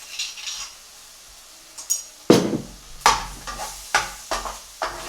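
Ginger paste frying in a pan, a low sizzle broken by a series of sharp clinks and scrapes as a utensil stirs against the metal, about five distinct strikes.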